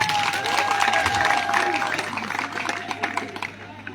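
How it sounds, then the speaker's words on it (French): A crowd at a political rally in Côte d'Ivoire applauds, with sharp individual claps and cheering voices over a steady low hum, fading somewhat toward the end. "On applaudit."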